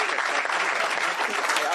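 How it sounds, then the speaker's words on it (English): Steady applause from an audience at a state transportation press conference with the governor, a dense, even clatter of clapping throughout with no talk over it. "Let's give them all a hand of applause."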